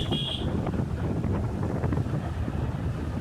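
Wind buffets the microphone while riding a motorbike slowly across a bridge on a cold, foggy winter morning, a steady low rumbling gust noise that carries on without a break.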